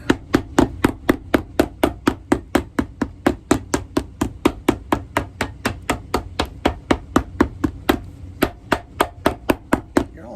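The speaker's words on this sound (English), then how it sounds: "Getting a lot of hammer time today." Sharp, steady hammer blows strike a vintage lineman boot heel in a fast, even rhythm, loud and close, continuing for about ten seconds with one brief pause.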